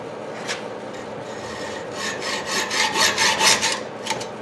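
Hand file rasping a small slot into a tripod back piece for a bike trailer hitch, a steady run of rough back-and-forth strokes growing louder and quicker toward the end, close up with no talking.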